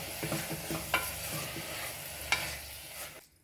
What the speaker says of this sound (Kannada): ಇವಾಗ ಇದಕ್ಕೆ 4 ಕಟ್ ಮಾಡ್ಕೊಂಡಿರುವಂಥ ಟೊಮೆಟೊನ ಹಾಕೊಳ್ಳಿ. ಚೆನ್ನಾಗಿ ಮಿಕ್ಸ್ ಮಾಡ್ಕೊಳ್ಳಿ.